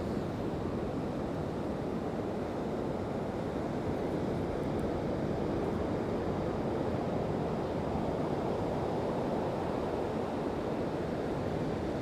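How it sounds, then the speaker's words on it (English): Ocean waves wash steadily against the shore, a broad continuous rushing hiss with gentle swells, moderately quiet and unbroken, with some wind noise and no voices. "And here comes the ocean."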